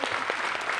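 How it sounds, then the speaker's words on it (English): Audience applause at a sheep gathering event, a dense steady wash of clapping from a crowd filling the whole short moment without pause. "please give them a big round of applause"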